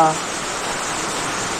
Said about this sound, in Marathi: पाऊस मोठा आलाय, आवाज बघा कसला या लागलाय